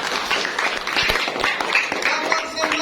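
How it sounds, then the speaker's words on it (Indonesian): Schoolchildren in a classroom applaud a classmate named Aldo, with dense, continuous clapping from a small group that is close and fairly loud, mixed with a few voices. "tepuk tangan untuk Aldo"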